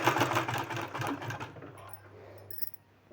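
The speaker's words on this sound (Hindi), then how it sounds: "इसमें भी हमको इस तरह से सिलाई लगा के इसमें भी बैठा देना है इसको" A sewing machine stitching a sleeve design runs in a fast, close mechanical whirr for about a second and a half, then stops, leaving faint handling noises.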